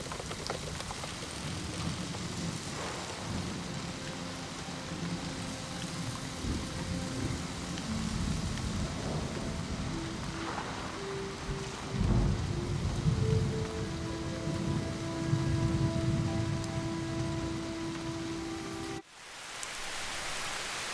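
Steady rain in the video game Season: A Letter to the Future, a dense hiss of drops on surfaces with low rumbles of thunder swelling midway, continuous and fairly loud before cutting off near the end.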